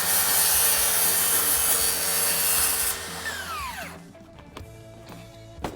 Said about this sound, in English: I've chosen to use a circular saw for this cut. And I'll go ahead and make that cut right now